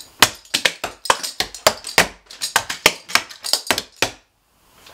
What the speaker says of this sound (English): we finish with a bell kick and cross